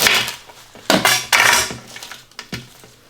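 A knife chops through cilantro stems on a cutting board while preparing Thai oxtail beef noodle soup, giving a few sharp, close knocks and scrapes spaced irregularly with quieter handling between.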